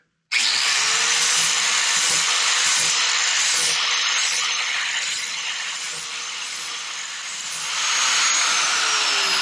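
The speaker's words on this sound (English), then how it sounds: "I'm using a flat disc here to get rid of most of what I need to get rid of. Kind of grind it into it a little bit." A flat grinding disc grinds down fiberglass around a boat through-hull: a loud, steady, harsh whine of abrasion that runs continuously from start to finish after a sudden start.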